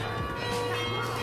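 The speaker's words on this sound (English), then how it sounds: "And the church bells go off." Church bells ringing out in a town in the Netherlands, a steady resonant tolling with sustained overtones, moderately loud and heard alone.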